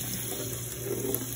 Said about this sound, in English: the reason I use the shower is so that it hits more granules and gets a good round rinsing